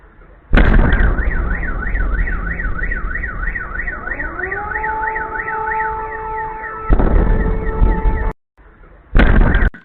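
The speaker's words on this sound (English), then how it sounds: "Wow, so multiple explosions right here. We've got car alarms going off in the Kursk region." A loud, close car alarm warbles and whoops continuously, shifting tones, with sharp blasts of rumbling explosions breaking in near the end, during missile attacks in Russia's Kursk region.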